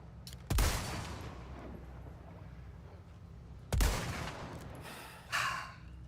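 Gunshots in the Resident Evil 4 Remake, two sharp loud shots a few seconds apart with short reverberant tails, then a fainter thud near the end, with no talking.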